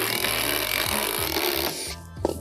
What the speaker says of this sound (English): now all the screws are installed on this deck board